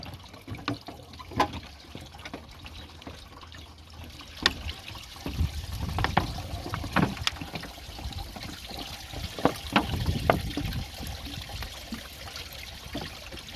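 Water from a hose trickles and splashes steadily while coolant is flushed from a Toyota Sienna's cooling system, with scattered louder splashes and clatters at moderate distance.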